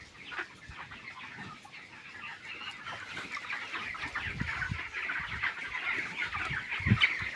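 Chickens cluck and squawk continuously inside a long poultry farm shed lit by LED lights, where they crowd the feeders; the flock is steady and moderately loud, with a sharper call near the end.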